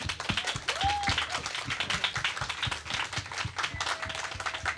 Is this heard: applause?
yes